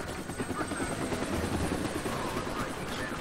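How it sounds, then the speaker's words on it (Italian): A helicopter in the video game Deadlight drones steadily with a loud, dense rotor roar filling the whole stretch, close and continuous with no talk over it. "Non mi dite che devo scappare dall'elicottero che mi uccido."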